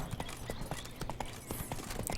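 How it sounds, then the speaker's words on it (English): Horse hooves clip-clopping in The Witcher 3 video game, a steady, fairly quick rhythm of distinct hoof strikes, moderately close, with faint background game ambience. "Bloody horse is rude."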